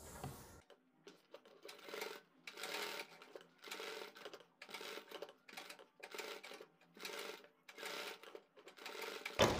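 A sewing machine stitches lace onto the edge of a garment neckline, running in steady close bursts of rapid mechanical clatter with brief pauses between runs.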